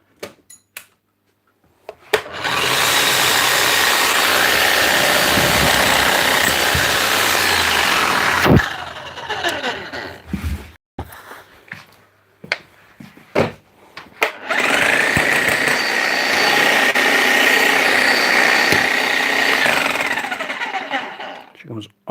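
A power tool hammer drill, serviced with new seals and grease, runs loud in two long bursts of about six seconds each, separated by a short stop-start pause with clunks and handling noise.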